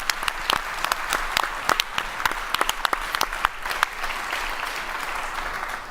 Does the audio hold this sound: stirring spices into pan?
no